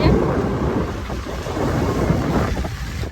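Rain sets in with a thunderstorm: a steady, dense broadband wash of rainfall under low rumbling thunder that holds at a fairly constant loudness for about three seconds, with no voices.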